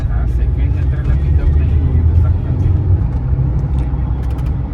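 A Maruti Suzuki car's four-cylinder engine strains hard under heavy throttle, giving a loud, steady in-cabin drone and road rumble, with a voice faintly mixed in.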